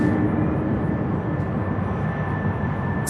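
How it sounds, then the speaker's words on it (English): A UPS-operated Airbus A300 jet rolls for takeoff at Louisville International Airport, a steady, fairly strong engine roar with a thin whine held throughout a brief stretch. "A300 Dallas is rolling."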